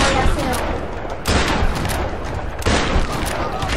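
Shotgun blasts in the Tomb Raider video game, with two loud broadband bursts landing close together amid continuous dense game noise and booming reverb.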